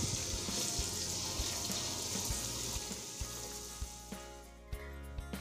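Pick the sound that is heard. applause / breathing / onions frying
onions frying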